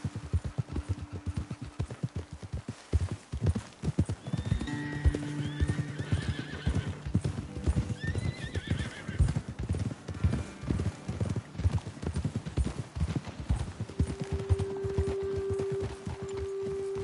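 Horses ride in the Red Dead Redemption 2 video game, with steady clip-clopping hooves, occasional neighs and whinnies, and faint ambient sounds throughout.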